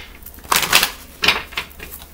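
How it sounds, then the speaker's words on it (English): Tarot cards being shuffled by hand, close and loud, in two or three papery riffling bursts with brief pauses between them. "Get a couple more shuffles."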